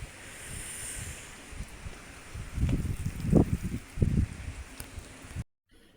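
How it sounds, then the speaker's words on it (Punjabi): Wind blowing during a rainy day outdoors in Punjab, a steady airy rush with gusts that swell near the middle before cutting off abruptly. "ਜਿੱਦਾਂ ਹਵਾ ਦੀ ਆਵਾਜ਼ਾਂ ਆਉਂਦੀਆਂ"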